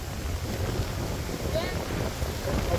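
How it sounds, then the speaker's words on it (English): Strong outdoor wind buffets the microphone in a constant, loud, low rumbling roar with no breaks, alone without any talk. "Oh, folks, it's quite windy this day, eh?"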